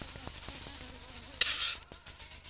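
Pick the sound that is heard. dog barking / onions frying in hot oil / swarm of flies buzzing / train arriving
swarm of flies buzzing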